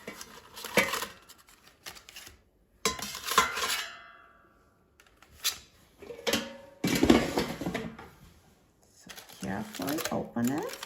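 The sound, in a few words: taking salmon foil packets out of the air fryer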